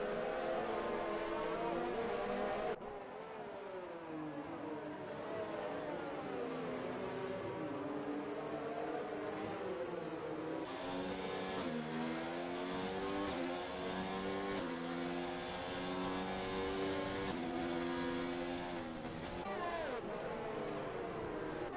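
Several F1 race car engines in a racing video game rev and whine continuously at close range, pitch climbing and dropping with throttle changes, a steady mechanical roar with no pauses.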